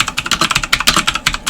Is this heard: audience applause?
no